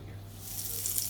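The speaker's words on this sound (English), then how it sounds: "Now I'll just wash my hands." Tap water runs steadily into a sink during hand washing in a home kitchen, a continuous close hiss that grows slightly brighter and splashier toward the end.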